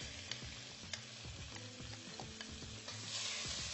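Onions sautéing in a pan to soften, a steady close sizzle with small scraping and stirring ticks throughout, swelling slightly louder toward the end.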